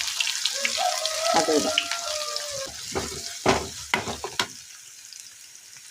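Garlic, onion and dried chili frying in a pan, a steady sizzle with scraping stirs and clinks, while a voice speaks briefly over it.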